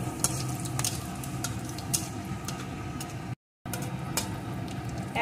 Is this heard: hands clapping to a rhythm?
no